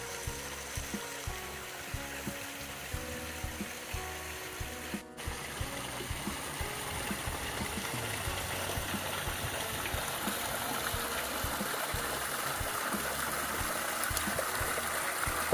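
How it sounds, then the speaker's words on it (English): Koi garden pond waterfalls spilling over a 5-foot drop, a steady broadband rush of falling water that holds constant throughout, close and fairly loud with no talk. "Listen to those waterfalls. And this is not enhanced at all."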